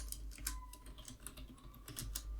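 Computer keyboard typing at a steady pace while an SQL query is entered, with quick light key clicks in uneven bursts, close to the microphone, no talking.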